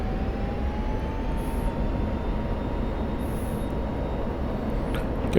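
F-16 Viper jet engine in a DCS flight simulation spooling up from idle, a steady loud roar with a faint rising whine running underneath, continuous and without voices.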